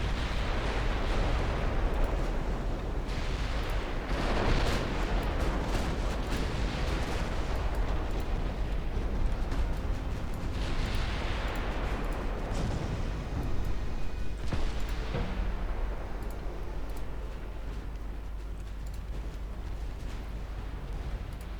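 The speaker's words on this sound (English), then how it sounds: "Yeah, we're scoring some torpedo hits." Torpedo hits explode against warships in the naval battle game Ultimate Admiral Dreadnoughts: loud, rumbling blasts roll one into another in several heavy waves over a continuous low battle roar.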